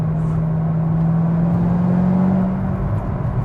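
A Corvette ZR1 engine hums in a steady, loud drone that climbs slowly in pitch under hard acceleration, holding one sustained tone close to the cabin with no talk over it.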